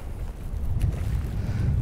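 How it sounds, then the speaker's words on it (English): Strong wind on a lake during walleye jigging, rumbling as a steady, close low roar of buffeting across the mic, with no voices. "it's getting crazy windy"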